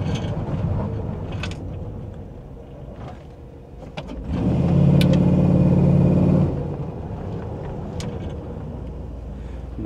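A front-wheel-drive car with an LS engine pulls away from a start in overdrive, its engine note rising into a loud, sustained drone midway before easing back, heard from inside the car.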